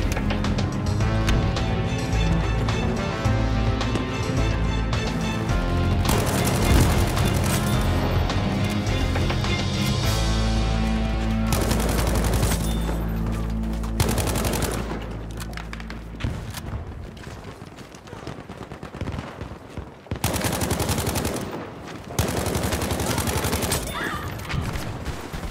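Shotgun blasts in Battlefield 5 multiplayer, heavy booming shots and gunfire mixed with music, explosions and thuds, with several distinct loud bursts spread through the clip.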